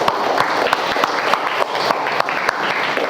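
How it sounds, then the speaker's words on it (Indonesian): A classroom of students claps together, a dense run of quick overlapping hand claps sustained for a few seconds at close range. "Tepuk tangan."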